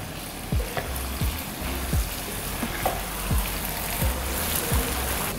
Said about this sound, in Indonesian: Nah, ini kita goreng setengah matang aja